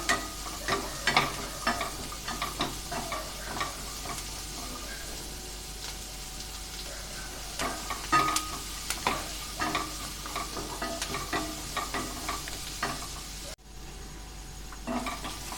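Onions sautéing in a pan for paneer tikka masala, a soft continuous sizzle under repeated scraping and clacking of a spoon being stirred, moderately close, with a brief pause near the end.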